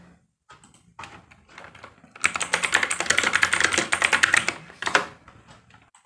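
Fast typing on a computer keyboard, a few scattered key taps at first, then a dense run of rapid clicking keystrokes, close and clear, ending with a couple of final taps.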